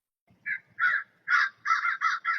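A crow caws about six times in sharp, evenly spaced calls, near and fairly loud, over a quiet background with no voices.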